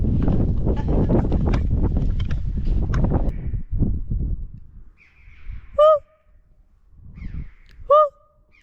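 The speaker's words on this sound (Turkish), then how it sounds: "tam şu girişte çok rüzgar esiyor" Gusty wind roars against the microphone at a building entrance in Nakhchivan for several seconds, then dies away, leaving two short, loud bird calls in near silence.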